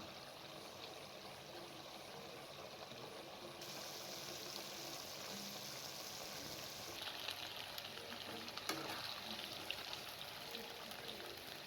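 Okra and minced meat fry in oil for a dhaba-style bhindi keema, giving a steady, fairly quiet sizzle that holds throughout with a few soft stirring clicks and no talking.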